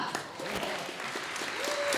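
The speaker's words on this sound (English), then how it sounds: "An applause" A crowd at a microchipping party in Sweden breaks into steady applause that lasts about two seconds, with a few voices mixed into the clapping.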